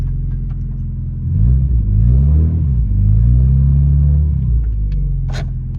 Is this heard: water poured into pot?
no